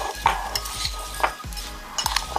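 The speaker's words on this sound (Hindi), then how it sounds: "अच्छी तरह हम इसे मिक्स करेंगे" A spoon stirs carrot murabba with sugar and green cardamom in a pot, giving repeated close scraping and clinking strokes with a soft wet sizzle underneath, no voices.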